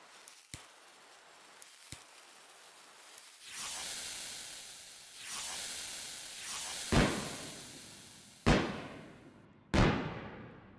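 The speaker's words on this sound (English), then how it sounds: "It's what I would call a Disneyland firework." Fireworks exploding in the video game Fireworks Mania: sharp isolated bangs, a stretch of long hissing, crackling bursts, then three loud booms that each fade away, with no voices.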